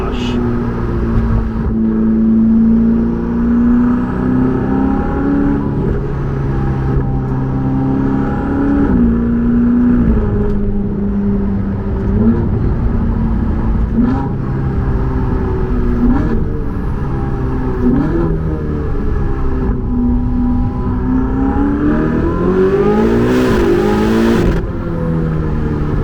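A Ferrari 488 GTB, 661 horsepower in a 3,250-pound car, pulls hard through the gears from the cabin, its engine note rising in repeated sweeps with shift breaks, loud and sustained, while a driver talks over it at times.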